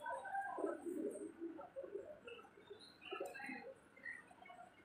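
Pigeons coo in soft, overlapping murmurs outside a Shiv temple in Kashipur, a steady low flock chorus with no talk over it.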